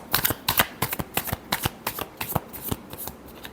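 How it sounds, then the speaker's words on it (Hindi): A tarot deck is riffled and shuffled by hand in a rapid run of crisp, flicking card bursts, close and fairly loud, with no talking over it. "Last shuffle."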